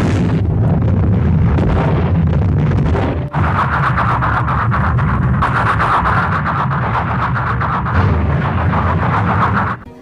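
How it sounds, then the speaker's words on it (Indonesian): Soviet artillery and Katyusha rocket barrages pound the Kursk area, a dense continuous roar of massed fire and blasts that stays loud and unbroken for the whole stretch, with one sharp jolt partway through and no voices. "pasukan Soviet mengawali serangan dengan menembakkan artileri dan meluncurkan roket Katyusha menghujani area Kursk"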